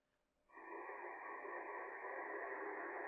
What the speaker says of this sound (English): I hear white noise with just one station in the back.